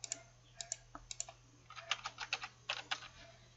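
Quick keystrokes on a computer keyboard enter a password during a Kali Linux virtual machine install, first sparse and hesitant, then a faster run of close, crisp clicks.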